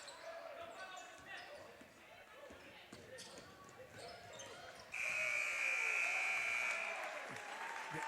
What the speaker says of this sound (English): As the buzzer goes off here at Drury High School